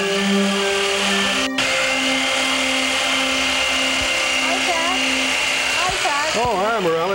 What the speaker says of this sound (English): But I just finished sawing this.